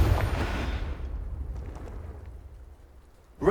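Fiery Confringo spell blast from the Hogwarts Legacy video game, a loud broad burst at the start that rumbles and crackles as it decays over a few seconds, with a fresh sharp hit at the very end.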